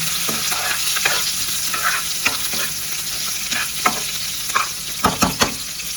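Food frying in hot oil in a pan, a loud steady sizzle punctuated by sharp crackles and spatters that grow more frequent toward the end, with no voices.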